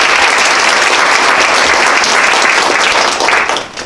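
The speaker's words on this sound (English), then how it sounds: "so if we can give them a round of applause for being here." Loud, dense applause from an audience welcoming panelists at a legislative briefing, steady throughout and tapering off at the end.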